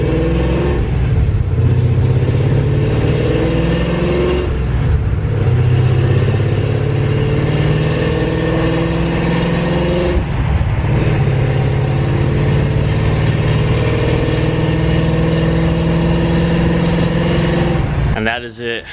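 A Mustang fastback project car engine runs steadily and loudly for the whole stretch, a continuous droning idle with slight rises in pitch, cutting off abruptly at the end.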